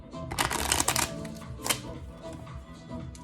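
Tarot cards being shuffled during a reading, a dense riffling flutter that comes in busy bursts early on, flares again briefly, then settles into softer handling.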